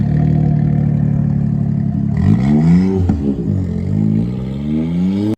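A Mitsubishi Minica's small engine idles and then revs up and down several times, rising and falling in pitch, loud and close with no talk.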